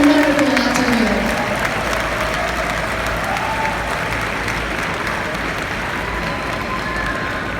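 Sustained audience applause fills a hall after a college valedictory speech, loud and steady from start to finish, with a voice speaking briefly over the clapping at the very beginning.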